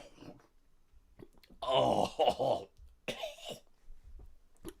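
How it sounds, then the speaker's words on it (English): A man coughs hard and clears his throat several times in harsh, phlegmy bursts, close and loud, with brief pauses and soft breaths and groans between them. "I can feel another cough coming up"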